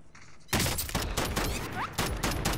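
Sniper rifle fire in the Warzone video game: a quiet lead-in, then loud sharp shots cracking close by, with rapid bursts and impacts stacking densely over about two seconds.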